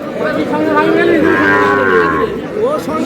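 A young bull calf at a busy village cattle market bawls one long, loud moo that rises and falls, with faint crowd chatter behind it.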